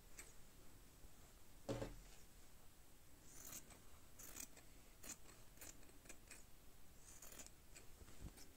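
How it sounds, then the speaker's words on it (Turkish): Scissors snipping off excess fabric while sewing a zippered cloth pencil-case bag, heard as a few faint, sparse clicks and snips over quiet room tone with no talking. "Şimdi şu fazla gelen kısımları makasla keserim."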